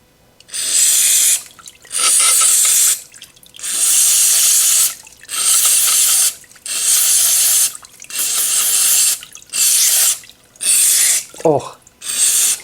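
Cleaner sprays in repeated hissing bursts into a clogged small engine carburetor, about eight separate blasts each lasting roughly a second, close and loud, with a brief knock between them.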